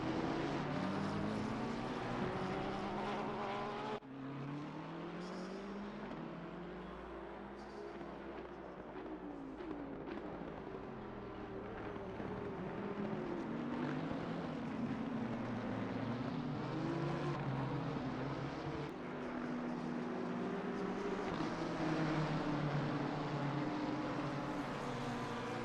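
Race cars in the Assetto Corsa Competizione game, including a Nissan, lapping COTA with a continuous engine drone whose pitch rises and falls through gear changes and corners, steady and fairly loud throughout.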